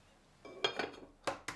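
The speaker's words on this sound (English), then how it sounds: "I'm using a fork, not a whisk, because I don't really want to aerate it. I just want to break it down." A fork beats egg wash for a tart case in a bowl, giving a few sharp metallic clinks and scrapes in short bursts against a quiet background.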